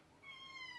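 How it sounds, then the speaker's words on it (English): A single drawn-out meow from a cat that has just woken up, faint and fairly close, rising and fading over under a second with no talk. "My cat just woke up and she's not usually awake right now."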